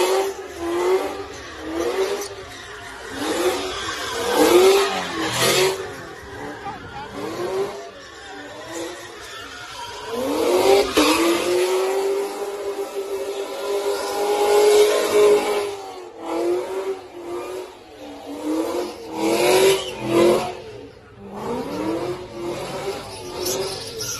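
A Cadillac CTS-V drifts and revs, its engine rising and falling in repeated loud surges, with one long sustained high-rev pull partway through, heard from moderately close with no talking.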